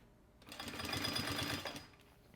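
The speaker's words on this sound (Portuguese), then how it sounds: "a costura você pode fazer inclusive até em cima dessa mesma costura que você já fez antes" Sewing machine stitching a seam on an anti-theft backpack, a steady mechanical whirring run of rapid needle strokes lasting about a second and a half, close and moderately loud, starting and stopping cleanly with no talk.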